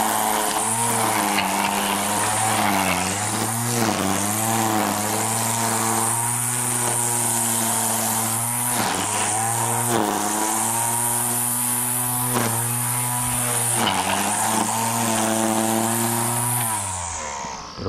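A battery-powered weed eater cutting grass, a loud continuous electric whine with its pitch dipping and recovering in repeated sweeps as the line bites into the grass, close and steady for the whole stretch.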